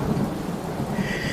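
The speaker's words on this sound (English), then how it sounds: "thundering is the way God talks to us" Deep thunder rumbling through a storm with steady rain, a continuous low roll that stays loud and dense for the whole short stretch, with no voices.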